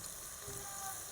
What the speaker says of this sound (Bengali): পেঁয়াজটা ভাজা ভাজা হয়ে গেছে